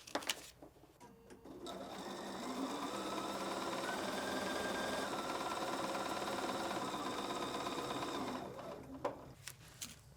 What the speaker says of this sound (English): we start a few stitches before, sew directly on the line